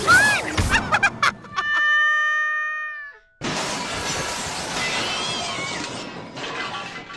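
A cat in Hogwarts Legacy gives a few short meows, followed by a magical chime with sustained ringing tones, a brief gap, and then a long dense whooshing burst of spell effects at fairly loud volume.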